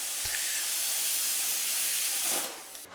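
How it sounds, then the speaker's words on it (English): Steel pipe being cut with a plasma cutter, a loud steady hiss that holds for over two seconds before cutting off and dropping away near the end. "I finished the job with my plasma cutter"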